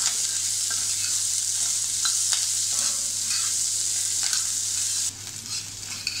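Onion sautéing in a pan for bhindi bhaji, a constant bright sizzle with occasional spatula scrapes and stirs, close, the hiss dropping slightly toward the end, with no talk.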